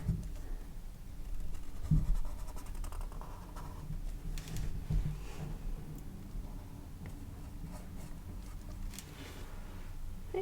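Marker drawing on sketchbook paper at close range, soft scratchy strokes and faint taps continuing quietly in an otherwise still room.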